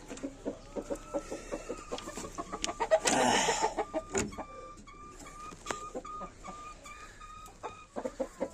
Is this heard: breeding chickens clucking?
yes